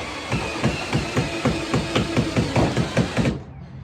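A 2.5 inch triple-coated square-drive deck screw is driven into a board during a camper wall rebuild, a close, loud drill driver giving a rhythmic stream of clacking impact pulses for about three seconds.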